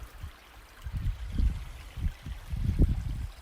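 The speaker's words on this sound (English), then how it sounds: "This stream that comes down the hill." A small stream runs down a hillside beside an old railroad yard at Muddy Creek Forks, Pennsylvania, gurgling and trickling softly in uneven swells close by.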